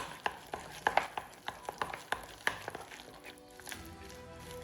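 Curry with chopped spinach leaves being mixed in a pot, a run of sharp spoon clinks and scrapes at an irregular rhythm, close and fairly quiet, easing off toward the end.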